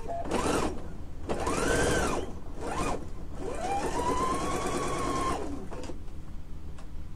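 Sewing machine stitching a quilt block, running in several loud bursts with short pauses between and a rising and falling motor whine, with no talk.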